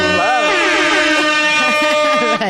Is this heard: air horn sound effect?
yes